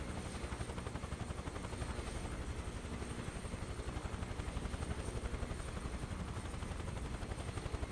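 A Chinook helicopter in Microsoft Flight Simulator 2024 drones with a loud, continuous rotor thump, its rapid steady chop pulsing evenly throughout with no voices.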